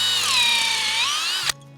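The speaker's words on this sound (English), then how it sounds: "We like to use a nice sharp drill bit so it doesn't chew up the inside of the tree" A power drill with a sharp bit bores a tap hole into a maple tree trunk, a loud, close, high whine that holds for about a second and a half, then cuts off abruptly.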